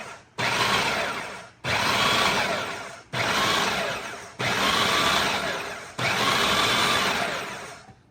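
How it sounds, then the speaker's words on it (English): A blender purees salsa ingredients for a chunky red Mexican salsa. It runs in five loud pulses, each whirring up hard and easing off before a brief gap, with no talking. "Looks like it's all blending together nicely."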